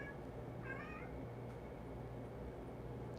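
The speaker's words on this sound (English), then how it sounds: "I don't know if y'all heard that. My cat's talking." A pet cat lets out a single short, wavering meow, faint against a steady low indoor hum with no talking.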